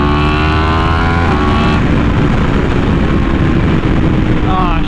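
Yamaha R1M sport motorcycle engine running loud and close, a steady harmonic drone that shifts pitch partway through as revs change, continuous for the whole stretch.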